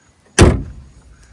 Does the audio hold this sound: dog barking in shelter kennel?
no